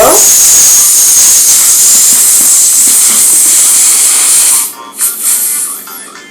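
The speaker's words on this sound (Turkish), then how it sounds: "Bakın havası çıkarken unlar da çıkıyor." Air rushing out of a flour-filled balloon, a loud, steady close hiss lasting several seconds before abruptly cutting off into a few short sputtering puffs.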